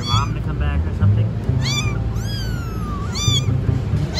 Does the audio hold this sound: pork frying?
no